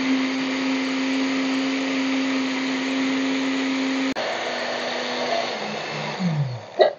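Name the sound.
blender grinding sandwich spread with oil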